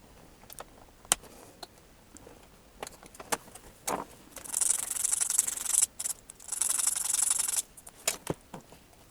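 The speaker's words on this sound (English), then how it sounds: "You can see I've just cut the top off and then sanded it so it's nice and flat." A cut plastic Lego piece is sanded flat, giving scattered taps and handling clicks followed by two sustained bursts of close, raspy rubbing, with no talking.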